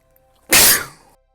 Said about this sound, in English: Apologies to people whose ears I just sneezed in